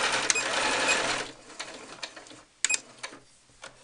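A sewing machine stitches a muslin cloth doll with a short close whirring run, then stops, followed by a few faint clicks and handling knocks.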